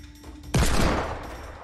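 Sudden loud burst of turret gunfire in the video game Fortnite, erupting after a quiet moment into a dense, sustained fusillade that fills the foreground and slowly trails off.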